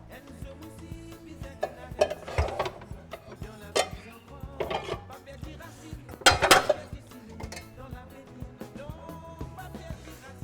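Clinking and scraping of a small frying pan and metal utensils while food grills, scattered uneven knocks and taps with a few louder clatters, close by with no talk.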